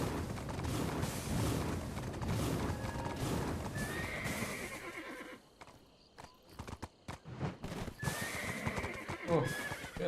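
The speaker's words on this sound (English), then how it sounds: "What's wrong with horses in this game, man?" A horse in a video game whinnies loudly and clip-clops with its hooves in steady, rhythmic footfalls. Game sounds play alongside, and a faint voice can be heard at times.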